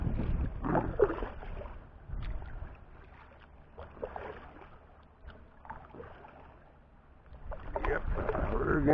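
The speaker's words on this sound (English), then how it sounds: "I fear I am paddling against the tide," A kayak paddled against the tide on open water, with soft rhythmic paddle strokes and water swishing close by, under gusty wind noise buffeting the microphone.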